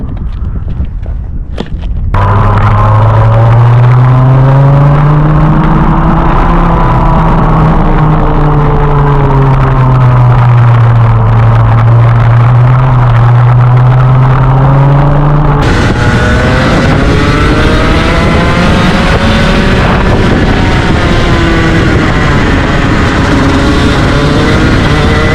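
A two-stroke competition go-kart engine at a kart track in Austricourt runs loud and close, a continuous buzzing drone that rises and falls in pitch as it revs, then jumps sharply higher and harsher near the end.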